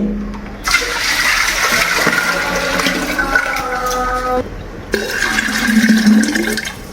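About six liters of water boil hard for dum tea at a tea stall, giving a loud, close, continuous roiling gush of bubbling with brief surges and a short dip midway.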